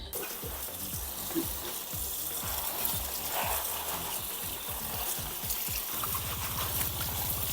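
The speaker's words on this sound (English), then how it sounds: "give these a nice good rinse" Tap water runs steadily over collard greens being rinsed in a kitchen sink, a continuous quiet splashing stream with the leaves rustling and knocking under it.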